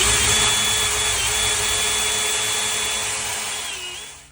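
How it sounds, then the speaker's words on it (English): A power drill drilling a hole in a car dashboard whines steadily at high speed, close and loud, holding its pitch for several seconds before winding down at the end. "Okay, so I'm gonna mark and drill about there."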